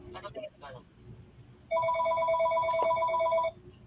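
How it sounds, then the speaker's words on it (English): A telephone rings with a bright, electronic two-tone trill lasting about two seconds, loud and close, after a brief moment of people talking. "Sorry about the phone."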